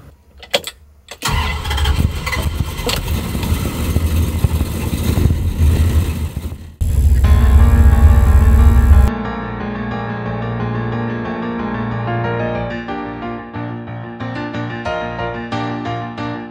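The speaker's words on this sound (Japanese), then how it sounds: "完全に冷えてるところからエンジンスタートします。" A V8 engine fitted with a modified 180 thermostat cranks and fires from fully cold after a few short bursts, then settles into a loud, steady, high idle that eases down slightly, with no talk.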